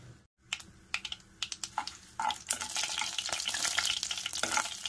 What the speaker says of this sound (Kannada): ನೋಡಿ ಸಾಸಿವೆ ಸಿಡಿತಾ ಇದೆ.